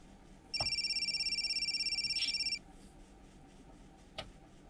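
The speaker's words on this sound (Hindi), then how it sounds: "मेरे शायद दूसरा फोन रिंग हो रहा है" A telephone rings once with a steady electronic trill lasting about two seconds, fairly clear in a quiet room, followed by a single faint click a moment later.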